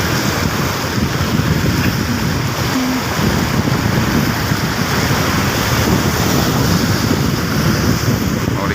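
Strong river current rushing with waves breaking, a loud, steady roar of churning water mixed with wind buffeting the microphone throughout, with no speech.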